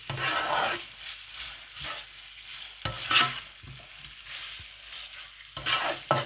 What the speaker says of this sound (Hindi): जैसा कि आप देख सकते हैं मैंने अच्छी तरह इसको मिक्स कर दिया।